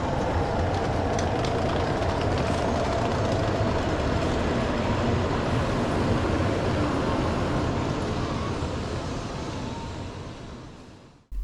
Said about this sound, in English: This is the Shinkansen N700 series. Sleek, modern and designed for speed.